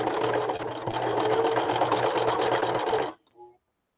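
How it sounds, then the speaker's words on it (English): A sewing machine stitches through fabric while a shabby chic clutch is being made, running steadily and loudly with a fast mechanical hum for about three seconds before stopping abruptly, followed by a brief soft click. "So again, you're just sewing normally now."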